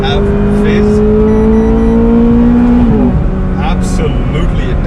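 A Ferrari F430 Spider with single-clutch transmission revs hard and loud, its engine note climbing steadily, then dropping and climbing again as it shifts, with voices talking over it.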